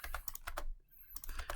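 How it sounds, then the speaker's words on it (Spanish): Repeated key presses on a computer keyboard, including the delete key, clicking in a quick irregular rhythm with a short pause midway, close and clear. "toco el componente y con el borrador del teclado lo elimino"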